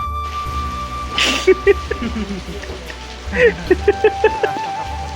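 Rain falls steadily outdoors as a soft background patter, with people talking over it and a few short knocks and clicks nearby.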